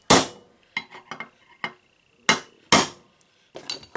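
A hammer strikes an improvised driver seating a Melling M155 oil pump in a Chevy 5.7 L V8, with about eight sharp metallic blows at an uneven pace, loud and close, and no talk.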